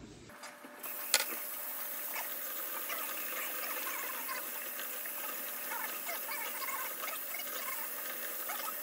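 Running water rinses freshly scraped flathead catfish fillets and belly pieces, a steady broadband wash that continues without pause after a brief clatter at the start.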